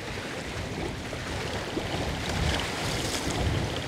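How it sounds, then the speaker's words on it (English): Strong wind buffets a Hobie sailboat on Lake Travis near Austin, Texas, a steady loud roar of gusts against the microphone with water sloshing beneath, swelling stronger toward the end. "Got some wind today, Elvis."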